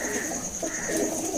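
A large racing pigeon kept by a pigeon fancier in Kudana, Shamli district, coos and rustles close by in a steady, low murmur that runs throughout without pause.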